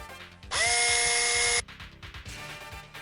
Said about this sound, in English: Oh, no drilling.